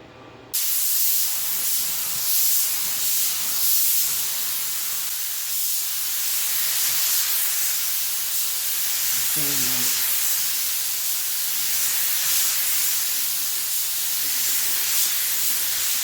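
A paint spray gun hisses continuously for a long stretch, spraying pearl paint, a steady broad airy rush with slight fluctuations and a faint background hum.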